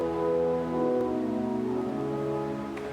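Casavant pipe organ playing a celeste-style flute stop with two pipes per note, one tuned off pitch, giving soft sustained chords with a gentle wavering beat.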